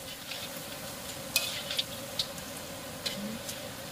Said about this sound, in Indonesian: Teman-teman, ini minyak gorengnya sudah panas ya. Sekarang saya masukin intipnya, kita goreng.